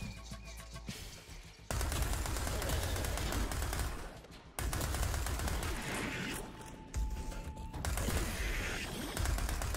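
Rapid gunfire from the side-scrolling action game Fury Unleashed, dense rattling bursts of automatic shots layered over loud game music and effects, broken by a few brief pauses.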